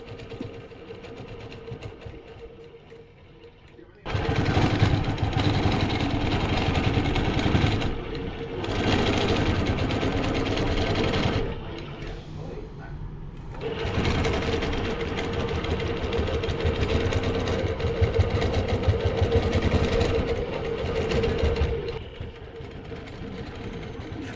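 A longarm custom quilting machine stitches through a large quilt, its steady mechanical whir running close and loud in long stretches that stop and restart with short pauses between runs.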